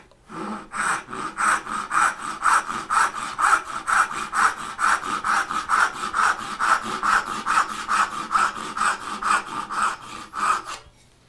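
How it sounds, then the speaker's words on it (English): A hand saw cuts an angled dovetail in wood with a steady back-and-forth rhythm, each stroke a close, crisp rasp repeated dozens of times at an even pace with no talking. "Start off making a kerf. Straight across, put the saw at the angle I want."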